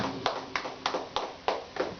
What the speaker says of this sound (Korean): 우리 아버지 하나님께 박수로 영광을 돌리십시오